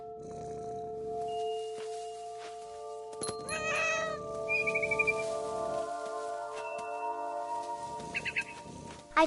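A cat meows in the video game What Remains of Edith Finch, one clear close meow over a sustained tonal ambient bed, followed later by a few short high bird chirps.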